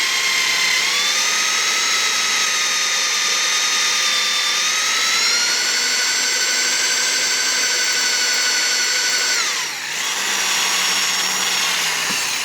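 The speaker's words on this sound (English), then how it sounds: "this drill bit does seem to want to cut on a higher speed better than it does on a lower speed" A steady high-pitched whine of a power drill biting into a steel axle, holding one pitch, then rising, then briefly dipping near the end before resuming.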